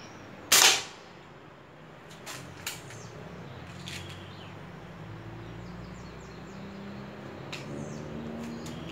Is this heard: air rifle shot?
yes